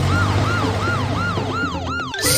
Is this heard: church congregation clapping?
no